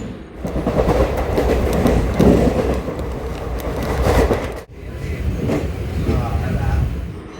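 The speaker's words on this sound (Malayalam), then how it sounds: "അപ്പോൾ ഞങ്ങളുടെ ട്രെയിൻ എത്തിയിട്ടുണ്ട്." A passenger train rumbles steadily into Pattambi station in Kerala, carriages clattering on the rails, with a brief dip before the loud rolling noise resumes.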